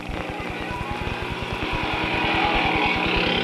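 A motorcycle engine runs steadily close by with a strong pulsing low-frequency beat, rising slightly in loudness toward the end, ridden around town by a late singer.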